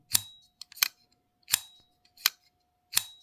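Kizer folding knife blade flicked open with its button release, five crisp snapping clicks spaced under a second apart, close and sharp, with faint small handling clicks between and no talking.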